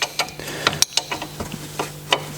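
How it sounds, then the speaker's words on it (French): A ring spanner loosens a bolt on a Ford Focus during a front wheel bearing replacement. Close metallic clicks and ratchet-like ticks come in an irregular series of sharp, separate strikes, and no one speaks. "Donc on dévisse, voilà, avec une clé à œil"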